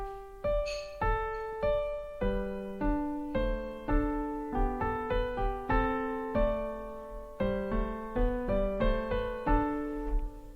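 Solo piano plays a simple canon melody, single clear notes struck one after another with the right hand leading, close and unhurried, without talk.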